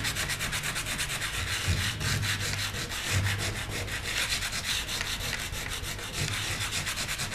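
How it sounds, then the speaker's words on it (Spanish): Sandpaper rubbing steadily across a textured mixed media painting, a continuous close scratchy rasp of rapid back-and-forth strokes with no voices. "En todos los lugares donde yo puse textura, puedo ir lijando."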